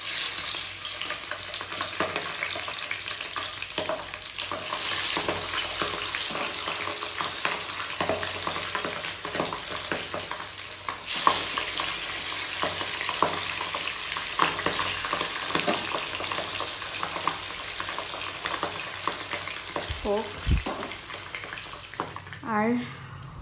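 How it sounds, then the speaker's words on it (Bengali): Fish coated in ginger, garlic and chili paste fries in hot oil with a loud, continuous crackling sizzle and dense pops throughout, a few sharper spits and clatters standing out near the end. "তেল গরম হয়ে গেছে, ফার্স্টে মাছগুলোকে ভেজে নেব।"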